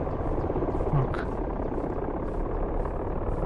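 A news helicopter seen from a GTA 5 spectator cam in a flight-sim video game, giving off a steady close rotor drone with a constant broadband whirr and no break in it.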